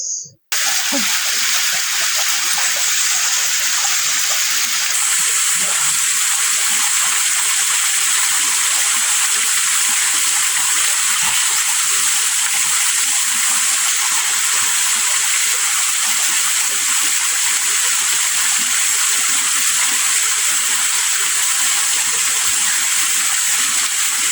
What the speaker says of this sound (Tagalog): Ayan, ito pakita mo yung falls.